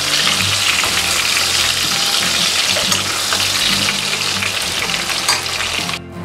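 Continuous loud sizzling and crackling of fish frying in hot oil, close up and steady throughout with no voices.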